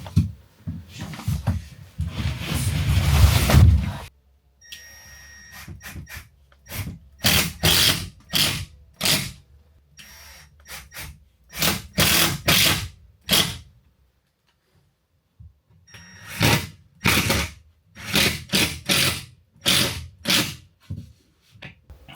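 A power screwdriver drives screws into heavy 5/8-inch sheetrock on a barn wall, repeated whirring bursts separated by pauses, close and fairly loud.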